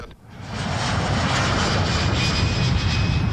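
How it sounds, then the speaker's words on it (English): Boeing KC-135 jet tanker engines of the Air Force, a loud steady roar that builds within half a second and then holds, with no talk. "The KC-135, also a Boeing plane, is the Air Force's flying gas station and moving van."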